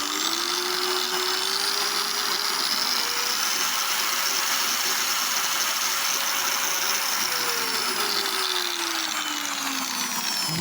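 A Dnipro-M angle grinder runs loud and close, its high whine steady at first, then sweeping upward and back as the revs rise and fall, with no talk over it.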